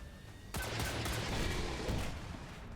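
A missile explosion in XCOM 2 bursts in suddenly and holds as a broad, rumbling roar that slowly fades, with no talking over it.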